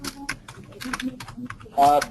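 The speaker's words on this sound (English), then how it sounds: "Can you stop typing, please?" Rapid, irregular clicking of keys on a computer keyboard, close by, with a voice talking over part of it.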